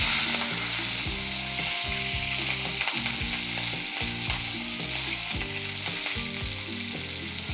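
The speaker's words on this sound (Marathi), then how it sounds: "आता ही छान भाजी आपण परतून झालेली आहे लसूण हिरवी मिरची मध्ये" Leafy greens fry in a kadhai with browned garlic and green chilli, a steady loud sizzle with rhythmic stirring scrapes throughout and no voices.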